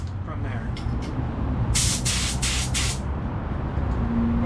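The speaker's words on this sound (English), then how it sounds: "I am gonna do the first coat just to see how this is gonna spray." A paint spray gun laying down a first coat of flake paint gives several short, loud hissing bursts in quick succession over a low background hum, with voices nearby.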